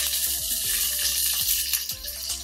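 Curry leaves, about one sprig, crackle and spit loudly as they drop into hot oil for a lamb bunny chow curry, with steady bright frying and a few sharp pops throughout.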